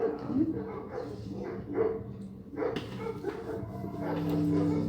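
Dogs barking as a sound effect during a tabletop roleplaying game session, several yaps and bow-wows in a dark forest chase, moderately loud over a noisy background.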